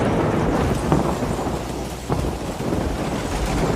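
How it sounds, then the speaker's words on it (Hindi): Steady heavy rain pours throughout with low rolling thunder rumbling underneath, a dense continuous wash of storm sound with a slightly stronger crack of thunder near the middle, no voices. "बादल गरज रहे थे और बारिश की झमाझम बूंदें दोनों के चेहरे और बदन को भिगोती जा रही थी।"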